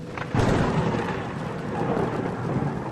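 A heavy thunderstorm: a deep roll of thunder rumbles over steady pouring rain, loud and close.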